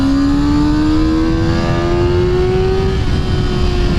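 A Kawasaki ZX-6R 600cc sport motorcycle engine revs hard and climbs steadily in pitch as it accelerates, loud and close, with a rough, roaring rumble underneath.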